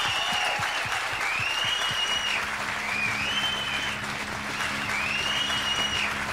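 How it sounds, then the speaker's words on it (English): Another round of audience applause for the dancers at an evening dance contest on a VHS recording, continuous even clapping from a crowd filling the whole stretch, with a faint low hum beneath. "How about another round of applause for all of our dancers this evening?"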